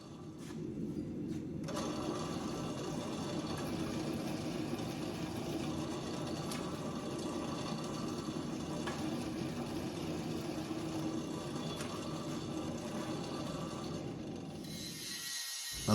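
A roller mill runs steadily for about fifteen seconds, pressing a Damascus steel billet thinner for a chef's knife, giving a continuous loud mechanical rumble and ratcheting whir that starts after a short pause and cuts off at the end.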